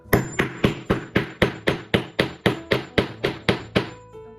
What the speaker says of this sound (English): now you're just gonna hammer that.